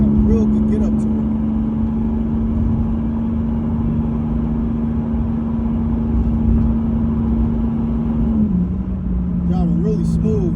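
A 1989 Chevrolet Celebrity car accelerates onto an expressway, its engine a steady, loud droning hum heard from inside the cabin that drops in pitch briefly near the end, as if shifting gear.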